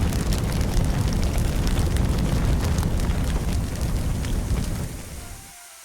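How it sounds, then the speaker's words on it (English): A room fire roaring in the video game Firefighting Simulator: The Squad, a loud, steady crackling rush that holds evenly for several seconds and then fades away near the end. "There's another fire in the next room."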